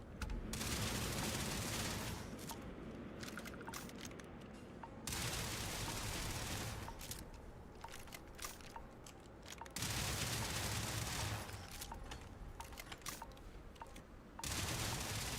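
Sustained bursts of automatic gunfire in the space game Starfield, loud and dense, coming in waves separated by brief lulls, with rapid overlapping shots and no talk.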